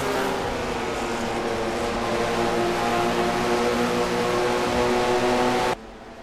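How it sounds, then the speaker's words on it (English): V6 race car engines running on track in a Mello Yello stock car race give a loud, continuous droning roar with layered tones, which drops abruptly to a quieter hiss just before the end. "Those of you wondering what that strange engine sound is, these are V6 engines they are running all season long"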